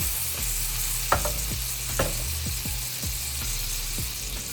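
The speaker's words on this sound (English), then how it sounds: "So now we're going to add the tomatoes to the oil mix." Tomatoes frying in hot oil for a seafood pasta sauce, a steady loud sizzle running throughout with several sharp spoon scrapes and knocks against the pan at irregular intervals.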